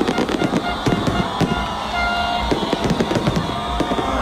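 A grand ten-minute New Year fireworks display over Manila pops and crackles in rapid bursts of sharp bangs, heard from a distance over a busy crowd.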